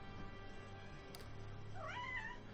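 A cat gives a single short, rising meow near the end, faint against a steady background of game music and hum.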